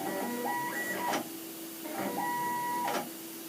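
CNC mill axis driven by a jog shuttle wheel, two motorized movement passes with rising and falling whine and stepped tones, each about a second long over a constant machine hum, close and alone.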